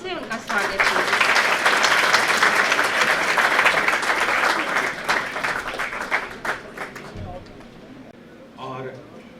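An auditorium audience at a G20 meet on women empowerment breaks into strong, dense applause welcoming a speaker, swelling and then tapering off over several seconds, with a voice returning near the end.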